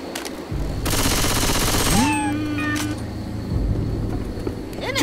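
Automatic gunfire in the zombie shooter Left 4 Dead 2, Cold Stream campaign: a dense burst of rapid shots fills the first seconds, followed by ongoing game noise and scattered impacts, loud and close.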